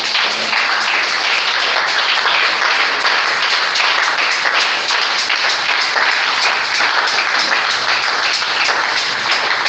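A church congregation applauds loudly and continuously in a dense, steady wash of clapping that fills the room from start to finish.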